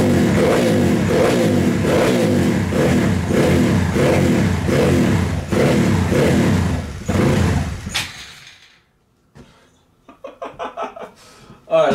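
A Honda Grom motorcycle engine runs up close with a steady pulsing rev, then cuts back to quieter sputtering blips and a final rise, with a short voice or chuckle briefly audible.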